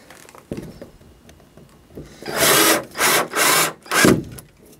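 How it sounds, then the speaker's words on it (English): Screws driven into thin hardboard on a model railway backdrop: a quiet start with a few light knocks, then four loud bursts of driver whirring and wood grinding, each lasting about half a second, separated by short pauses. "Let's go ahead and get those screws in."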